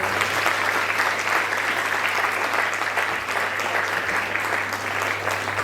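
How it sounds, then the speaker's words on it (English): An audience at an academic research presentation gives a sustained round of applause: dense, even clapping that holds steady throughout, with a low electrical hum underneath. "Please let's give them a well-deserved round of applause"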